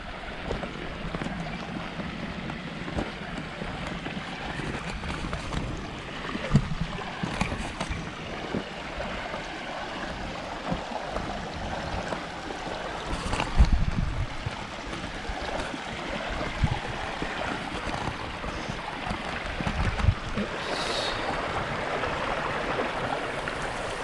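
A creek flows steadily during a hiking crossing near Mount Barney's Lower Portals, a continuous close rushing wash with wind noise and occasional bumps and splashes.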